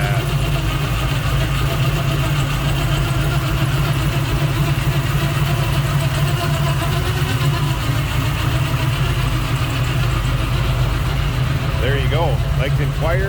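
A 1966 Chevrolet Nova with a fuel-injected 388 stroker engine idles with a steady, loud low rumble throughout, someone talking over the engine.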